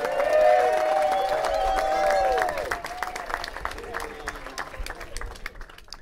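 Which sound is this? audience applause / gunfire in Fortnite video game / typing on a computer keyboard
audience applause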